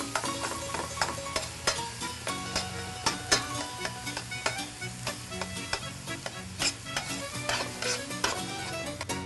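Meat browns in a hot pan with a dense, continuous sizzle and rapid crackling spatters, joined by irregular clinks and scrapes of utensils, all fairly close and without talk.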